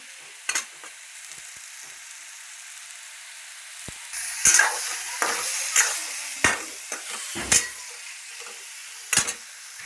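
Washed brinjal pieces and drumsticks fry in a pan with a steady sizzle, while a spoon stirs them in a series of sharp scraping knocks that sound close and clear.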